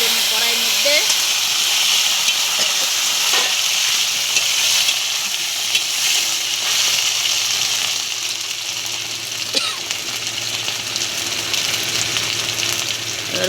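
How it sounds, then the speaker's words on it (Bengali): Chopped taro sizzling in a hot oil-filled kadai with bay leaves, dried chilli and panch phoron, a loud steady frying hiss with faint clinks of stirring throughout. "ছড়া কচুটা দিয়ে দিচ্ছি তেলের কড়াইয়ের মধ্যে।"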